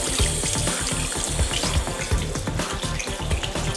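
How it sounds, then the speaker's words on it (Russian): Running tap water splashes steadily over hands being rinsed of soap at a sink, a continuous close splashing wash with no talk over it. "просто обычно споласкиваем ручки под протоком воды, чтобы смыть полностью мыльный раствор"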